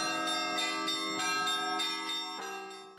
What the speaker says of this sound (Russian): фестиваль колокольного звона «Пасхальный перезвон»